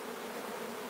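Worker honey bees buzz steadily at a colony as extra bees are added to a cell-building hive, a dense, continuous hum close by with no talking.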